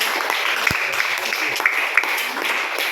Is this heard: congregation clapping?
yes